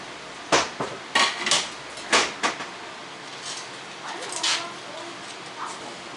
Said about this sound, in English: Let's get a pan out here.